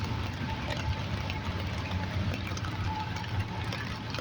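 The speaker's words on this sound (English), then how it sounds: "Can you hear that train?" A distant, steady rumble of train engines drones on with a faint high hum as the train passes some way off, with no one talking.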